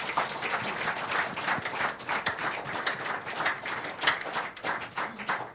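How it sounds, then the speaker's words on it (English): Sustained applause from a live radio programme's studio audience, dense overlapping clapping held steady throughout at moderate distance, with no talking. "Make we clap for him."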